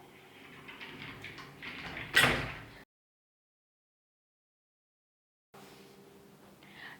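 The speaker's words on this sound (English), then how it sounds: "where you are getting this sliding door wardrobe" Sliding door wardrobe in a 4 BHK apartment bedroom being opened or closed, a rolling slide ending in a sharp knock, then a stretch of silence before faint room tone resumes.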